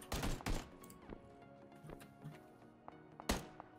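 Gunfire in the PUBG battle royale game during a squad fight, with several sharp reports in quick bursts at the start, then scattered single shots and a final loud crack, heard at varying distances.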